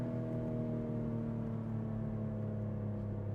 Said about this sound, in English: I just want to listen to this exhaust